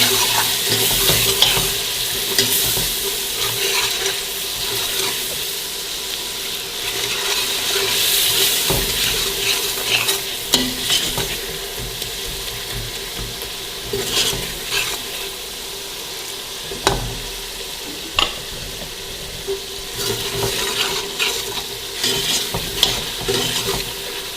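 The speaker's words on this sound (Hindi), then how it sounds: "जब तक हमारा मसाला भुनता है" Masala for a mixed vegetable salan sizzles and fries in a pan while a utensil stirs it, with a constant hiss broken by intermittent sharp scraping clicks, close and moderately loud, without any speech.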